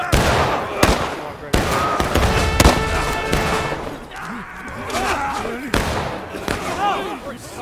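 Musket volleys crack out during an infantry charge in the Civil War game War of Rights: several loud, sharp shots at irregular intervals, some near and some farther off, mixed with shouting voices.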